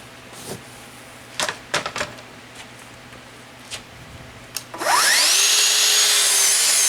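Several scattered knocks and taps on plywood give way to a power tool spinning up sharply, then running loud and steady as it cuts pieces of plywood.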